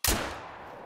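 A single shotgun blast in a hunting video game, one sharp loud crack with a fading tail, heard alone.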